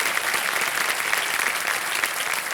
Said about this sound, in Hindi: एक बार फिर जोरदार तालियां हो जाएं विभू के लिए